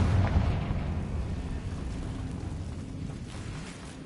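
Confringo fire spell blast in the Hogwarts Legacy video game, a booming burst at the start followed by a rumbling, crackling fiery decay that fades out over a few seconds.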